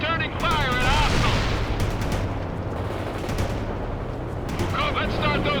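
Dense battlefield gunfire in the World in Conflict strategy game, with a Bradley fighting vehicle trading shots amid rapid bursts and booming explosions, continuous and loud under radio-style voices speaking over the combat.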